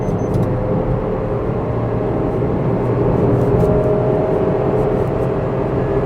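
A Maruti S-Presso AGS car accelerating hard in manual mode, with a continuous loud engine drone and road rumble heard from inside the cabin.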